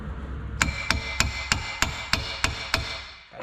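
A hammer strikes a stuck wheel bearing on a Dodge Ram 4x4 eight times in a steady rhythm, each blow a sharp ringing clank, close and loud.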